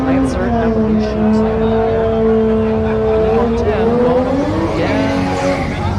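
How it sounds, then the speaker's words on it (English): Mitsubishi Lancer Evolution drag car at a no-prep drag race at Orlando Speed World, a loud engine note holding steady then climbing in pitch, with crowd noise and talk underneath. "Alright, so we got the Mitsubishi Lancer Evolution."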